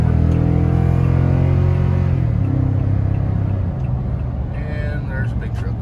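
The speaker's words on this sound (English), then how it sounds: "We're getting ready to make a uphill, somewhat heavy throttle run up onto the interstate" A 2019 Toyota Tundra under heavy throttle climbing an uphill ramp onto the interstate, a loud engine drone rising in pitch then shifting gear, with voices over the road rumble.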